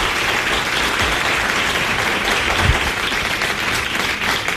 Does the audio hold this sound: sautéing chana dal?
no